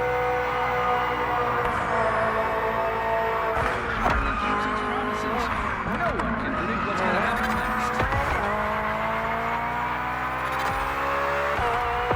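A 2023 BMW M Hybrid V8 endurance race car driven in The Crew Motorfest game: a loud, continuous engine roar with rising and falling pitch, tire squeal and skidding through corners, and steady racing noise throughout.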